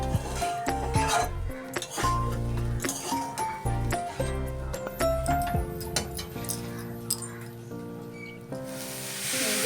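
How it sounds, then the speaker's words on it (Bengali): Sugar being stirred in a pan: a spoon rasps and clatters against the metal in uneven strokes, with gritty scraping and occasional clinks, close up and steady over about ten seconds. "চিনিটা দিয়ে একটু নেড়ে দিই"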